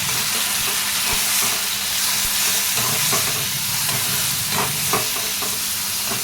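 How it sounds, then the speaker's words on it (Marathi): Green chilies and tomatoes sizzle and fry in oil in a pan, a continuous close crackling hiss with occasional stirring clatter, no voices. "मिरच्या छान फ्राय झाल्या लगेच याच्यामध्ये टाकून टोमॅटो."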